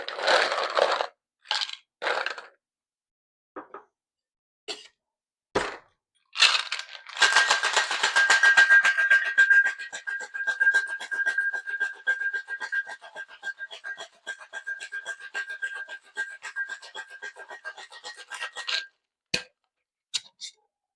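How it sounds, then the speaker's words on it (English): A cocktail shaker tin packed with ice is shaken hard for about twelve seconds, a dense rapid rattle of ice against metal, preceded and followed by a few sharp isolated clinks and knocks. "fill our shaker tin up with ice and shake for about 15 to 20 seconds"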